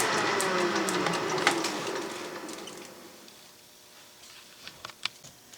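A Logan lathe with a taper attachment cuts a taper, giving a steady close machining hiss and whir that fades as the cut stops, leaving faint ticks and small clicks.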